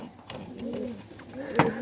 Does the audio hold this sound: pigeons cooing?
yes